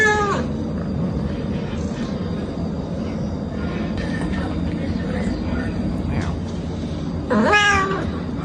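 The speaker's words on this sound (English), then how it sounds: "He does have a pretty deep voice for a cat." A cat with an unusually deep voice meows a few times, low and drawn out, over a steady background hum and people talking.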